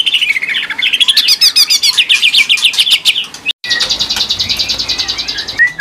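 A young caged magpie robin sings loud, close, rapid chirping phrases, with fast repeated notes and trills that break off briefly and then resume.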